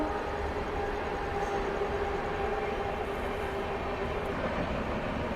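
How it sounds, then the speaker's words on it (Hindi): Another train rolls past on an Indian railway line, a steady loud rumble and rattle of wheels on track that continues for the whole stretch without letting up. "फिर कोई ट्रेन निकली दोस्तों"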